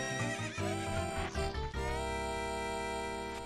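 A horse whinnies in Ocarina of Time, a loud, bright, wavering neigh that rises and falls, then a steady held synthesized tone rings on alone afterward.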